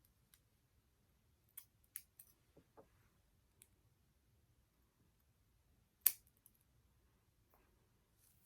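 Scissors snipping through wig closure lace, a handful of faint, quiet clicks and snips spaced apart with one sharper cut near the end, no talking.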